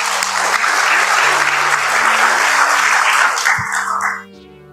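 Sustained applause from an audience at a PLN corporate tribute event honouring staff, a dense, steady clapping that holds at full strength with a low tonal backing beneath, then quickly fades out near the end.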